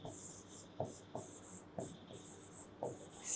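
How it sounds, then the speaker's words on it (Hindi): Marker or chalk strokes on a classroom board, several short scratchy bursts with pauses between them, fairly quiet with no talk over them. "इसे इरेज करके मैं दोबारा से लिख देती हूँ"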